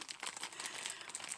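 Plastic bag crinkling as a replica doll box from WAMDOLL is opened, a dense, continuous rustle close to the mic with no talk over it.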